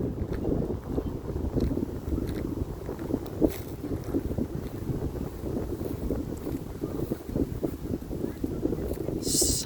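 Wind blows steadily across an open graveyard beside a church, a continuous broadband rush with microphone buffeting and no clear voices.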